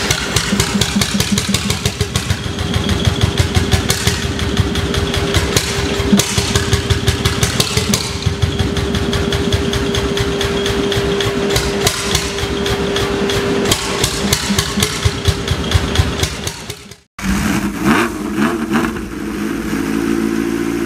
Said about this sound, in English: this single-cylinder semi-diesel marine engine resumed operation after 2 decades